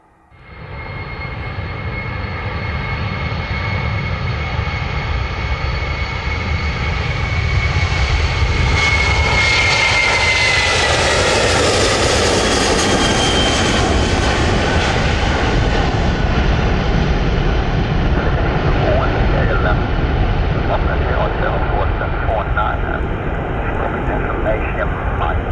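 A Turkish Airlines jet airliner takes off at Manchester Airport, its engine roar swelling from the start into a loud, sustained rumble that peaks midway and holds steady for the rest of the run.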